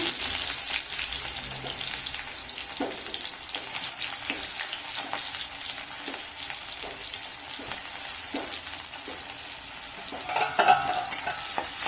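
Chopped onion frying in oil in a wok, a continuous loud close sizzle with faint periodic stirring taps throughout.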